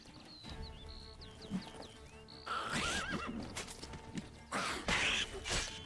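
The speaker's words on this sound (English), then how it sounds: "No sé por qué se ha subido otra vez al caballo." A horse in the video game The Witcher 3: Hearts of Stone neighs and whinnies while hooves clip-clop, with game music and effects underneath, the hoof steps and louder whinnies building toward the end.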